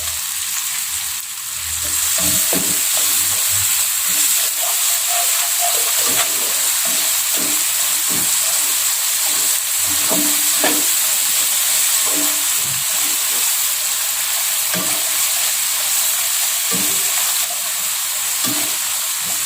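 Spiced tuna sizzles and fries steadily in a hot pan while a utensil scrapes and stirs it in repeated strokes, close and continuous.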